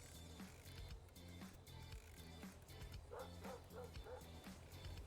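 Loud dog barking in the GTA V NoPixel game, a steady series of sharp barks over a dense game soundscape, with faint voices underneath.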